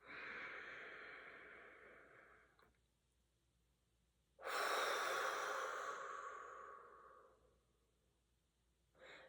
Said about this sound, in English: as we breathe in, we're going to breathe out forcefully to blow away the rest of those filings